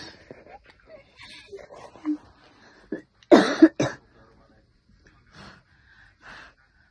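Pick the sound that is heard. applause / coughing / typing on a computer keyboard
coughing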